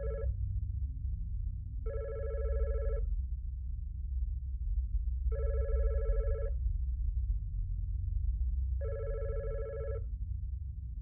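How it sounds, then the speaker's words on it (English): An old-style telephone bell rings in a horror video game, four evenly spaced rings of about a second each over a low rumbling ambient drone, fairly quiet and with no talking. "So the phone rings."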